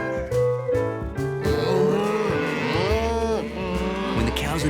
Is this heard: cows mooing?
yes